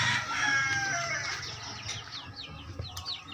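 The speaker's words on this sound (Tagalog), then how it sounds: "dito naman banda ay marami pong manok pansabong" Fighting roosters kept for cockfighting crow and cluck in a yard, several overlapping calls at moderate distance rising and trailing off in the background.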